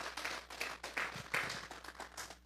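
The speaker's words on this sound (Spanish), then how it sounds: "Vamos a darle un fuerte aplauso pues al Señor esta tarde" A church congregation applauds, with irregular claps from many hands forming a soft, moderately distant patter that holds steady throughout.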